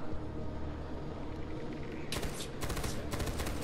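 Gunfire in Far Cry 4 amid a dense, rumbling game soundscape, with a sharp volley of rapid shots erupting partway through, loud and crackling, no talking.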